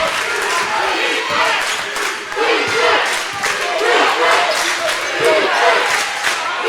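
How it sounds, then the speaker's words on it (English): A deafening basketball crowd roars and yells in a gym during a men's game against Salisbury, loud surging noise with bursts of cheering, a commentator talking over it throughout. "And this crowd is deafening right now."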